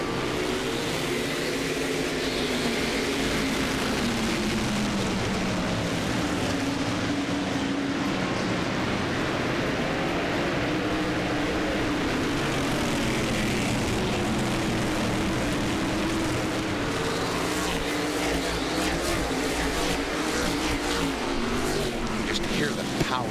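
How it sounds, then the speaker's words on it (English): 600-horsepower stock cars roar toward the green flag at Langley in a 2010 NWSMT race, a dense, loud, continuous engine drone with pitches that rise and fall as the pack passes. "Hear the power in these cars. 600 horsepower, and Tim Brown looked like he had, well, 601"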